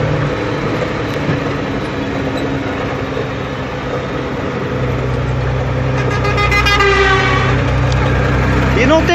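A diesel machine hauling harvested salt at a salt works rumbles with a loud, steady engine drone. The tone rises slightly partway through, and voices are faintly audible over it.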